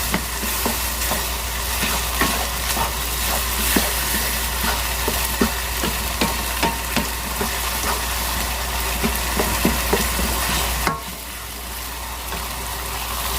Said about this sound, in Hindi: जो आपने नमक और हल्दी है जो डाली है, उसमें इसकी भुनाई करनी है थोड़ी देर के लिए